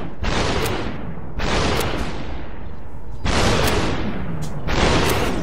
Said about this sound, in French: Et là-bas aussi, regardez, ça commence à tirer.